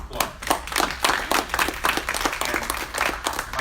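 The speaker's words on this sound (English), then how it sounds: "Let's give him a round of applause." A small crowd at a media briefing claps for an artist with uneven, distinct hand claps that rise and fall in bursts, close and fairly loud.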